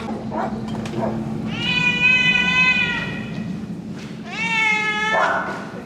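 Cats at an animal shelter meow twice in long, drawn-out, wailing calls, the second rising sharply at its end, close by over a steady low hum and faint background bustle.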